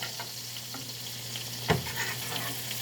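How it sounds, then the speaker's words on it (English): Filet mignon frying in a pan and being basted with butter, a steady close sizzle with a low hum underneath and a single sharp clink or spatter partway through. "So I'm basting my Filet Mignons."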